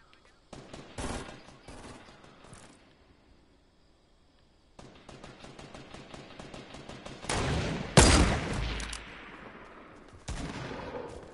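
Sniper rifle fire in Fortnite, sharp cracking shots heard among bursts of rapid gunfire and clattering game action, quiet at first and growing louder toward a heavy blast near the end.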